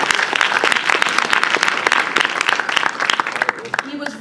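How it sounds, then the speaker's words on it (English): An audience at a film screening introduction breaks into steady applause, a close, dense patter of many hands clapping, with some voices mixed in. "Yes, go ahead and clap."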